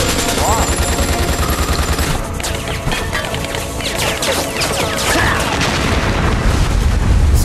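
Explosions and rapid gunfire in Metal Gear Solid: The Twin Snakes, with heavy booms and bursts of automatic fire loud and continuous throughout, amid other chaotic game sounds.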